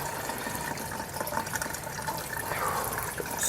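Water pours steadily from a pipe into an aquaponic grow bag bed until it overflows, a continuous splashing, gurgling rush heard close and fairly loud throughout, with no talking over it.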